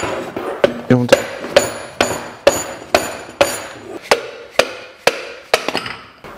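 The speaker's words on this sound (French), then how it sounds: "on prend un marteau, ou alors on peut taper fort avec ce qu'on veut ici" A hammer strikes metal about a dozen times in a steady rhythm while removing e-bike bearings, each blow sharp and ringing, close by with no talking.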